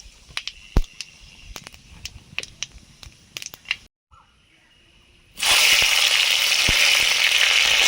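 Dried chilies and panch phoron are dropped into hot mustard oil. Scattered crackling pops come first, then a brief lull, then a loud, steady sizzle that runs to the end.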